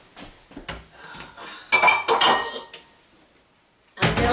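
A mixing bowl being taken out in a home kitchen, with clinks and clatters of dishes and metal utensils in several bursts, a short pause, then a final rattle.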